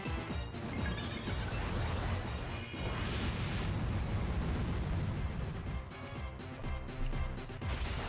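A loud, crunching blast followed by rumbling, crackling debris, a Pokémon Explosion move effect from Metagross in a video game, dense and sustained for several seconds.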